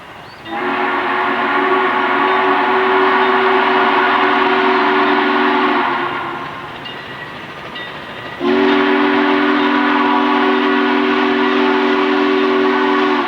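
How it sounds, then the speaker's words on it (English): Frisco 1522 steam locomotive accelerating west of Centralia on former Southern rails: two long, loud, steady whistle blasts over a rumbling, hissing roar, with a brief dip between them. "The train is back on former Southern rails as it accelerates west of Centralia."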